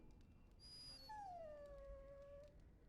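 A dog in the video game Dragon Age Origins gives a faint, drawn-out whimpering whine that slides downward over a quiet background.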